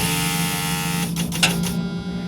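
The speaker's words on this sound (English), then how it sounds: "the first thing you can hear is the vacuum pump charging, or gaining pressure" A steady electric hum with faint whine, then a brief series of soft hissing pulses as an electric truck's vacuum pump cycles, close and fairly quiet.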